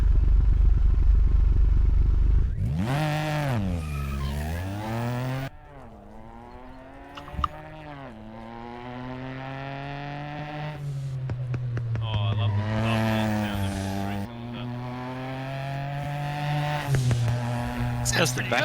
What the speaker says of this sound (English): How's that 3-cylinder burble as well?